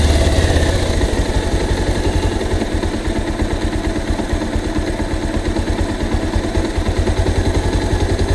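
A carburetor engine idles steadily at about 1500 rpm after idle-screw tuning, a close, continuous, even putter with a low throbbing pulse and no voices.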